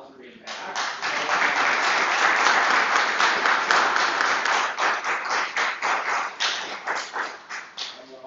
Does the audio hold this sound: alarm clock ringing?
no